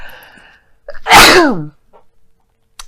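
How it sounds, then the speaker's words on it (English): A single sharp sneeze, loud and close, preceded by a quick breath intake and followed by quiet. "I don't know why I'm sneezing so much"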